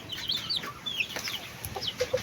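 Brooding hens on a backyard farm give soft, close clucks and a few higher chirping calls in an irregular scatter, with faint rustling underneath.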